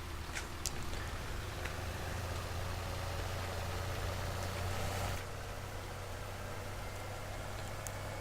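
A tractor in a farming game running with a steady, low idling engine drone, faint and unchanging throughout, with occasional light clicks and no talk.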